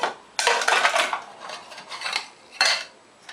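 A metal camping cup, pan and bowl are handled, giving several loud clattering, clinking bursts with short pauses between them, close up and with no talking.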